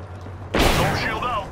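Burst of automatic gunfire in a session of the video game Apex Legends, a sudden loud rattle that stays dense and sustained for about a second, mixed with game sounds.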